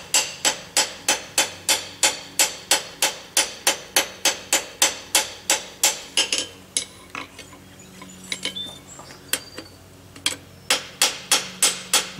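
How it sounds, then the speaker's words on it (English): A small blacksmith hammer strikes hot tongs on an anvil in a fast, even run of ringing metallic blows, pausing for a few scattered taps before the steady rhythm resumes, close and alone. "Now by using a small hammer for that"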